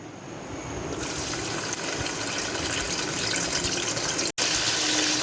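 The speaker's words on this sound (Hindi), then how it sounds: "ऑयल हमारा गर्म हो चुका है। अब हम इसके अंदर डाल देंगे प्याज।" Chopped onions hit hot oil in a pot and set off a loud, sustained sizzle that rises sharply within the first second and stays dense and even, with one brief break near the end.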